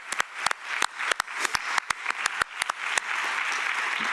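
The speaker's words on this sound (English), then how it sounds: "Maybe just a round of applause for all of them." Conference audience applauding its organizing committee at a closing session, a steady patter of individual claps from a modest crowd, fairly close and even, with no talk over it.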